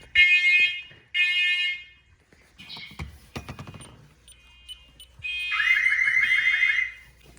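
An Ademco smoke alarm sounds during a test with two loud piercing beeps, then clicks and handling noise, followed by a longer sustained shrill tone near the end.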